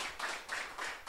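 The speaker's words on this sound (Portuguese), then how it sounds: "Dá uma salva de palmas então, bem forte" A church congregation claps together in a quick, even rhythm of about four claps in one second, faint and somewhat distant.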